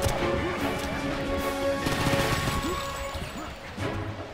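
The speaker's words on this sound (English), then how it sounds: "Your best choice of weapon in this case is basically a chain gun for its perfect precision, great range, and high rate of fire." A chain gun fires in Painkiller: Black Edition, a dense, continuous rapid-fire clatter with crashing impacts and explosions throughout, loud and close.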